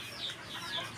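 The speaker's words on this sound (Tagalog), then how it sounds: "Ang mga manok na nag-iintay na ng patoka." Soft, faint clucking from a few chickens in a backyard, brief and scattered, with no talking.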